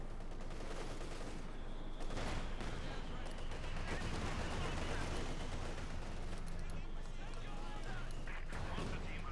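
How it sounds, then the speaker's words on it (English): Company of Heroes 2 battle sounds: mortar thumps and scattered gunfire rumble under a continuous commentator's voice in a dense, busy mix. "so now the Russians responding with a mortar battery of their own"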